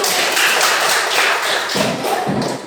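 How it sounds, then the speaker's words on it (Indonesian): A group of people in a school classroom applauds a student named Rahmi: dense, steady clapping that fills the whole stretch at fairly close range, with a few heavier thuds near the end. "Tepuk tangan untuk Rahmi"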